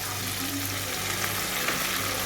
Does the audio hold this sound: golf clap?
no